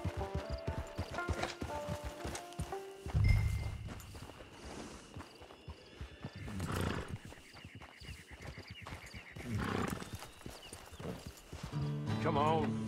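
Horse hooves clip-clop at a walk in the Western game Red Dead Redemption, with a possible whinny, steady and moderately close beneath ongoing character dialogue.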